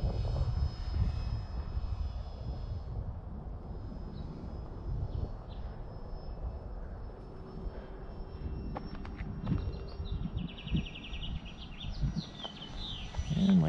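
A Freewing Pandora RC airplane's electric motor whines steadily through takeoff and flight over a gusty field, its pitch shifting as the plane climbs and passes, with faint birdsong in the background.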